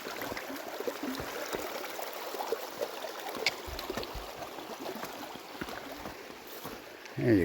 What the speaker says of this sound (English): Our first stream crossing here. Look how clear this water is.